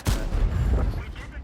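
Heavy tank cannon fire in a tank video game from a high-caliber Centurion Action X, a loud, close boom with a rumbling, sustained tail that fills the whole moment.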